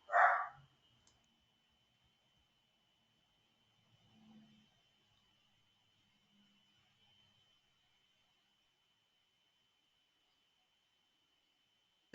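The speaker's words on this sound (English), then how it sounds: "I'm going to mute myself because my dog is barking" A single loud, close dog bark opens, followed by near silence with a steady faint hum and a few soft murmurs and clicks in the background.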